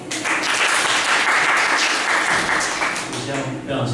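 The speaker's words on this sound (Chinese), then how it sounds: "那我们先一起掌声欢迎一下我们杨执行长" At a Friday evening talk, an audience applauds to welcome a media CEO, a full, sustained wash of clapping that gradually thins toward the end, with voices murmuring underneath.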